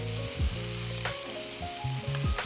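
Breadcrumbs toasting in butter in a pan for green bean casserole, a soft continuous sizzle with intermittent scraping stirs, quiet and close, no talking.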